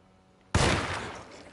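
A single sharp gunshot blast in the Alone in the Dark video game, sudden and loud, with a broad roaring tail that slowly fades over about a second.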